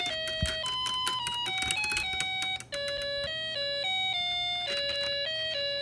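A Snap Circuits SC-750 kit plays an electronic Happy Birthday tune in clean, piercing beeped tones, each note held briefly and stepping up and down in a simple melody, heard close with faint handling noise.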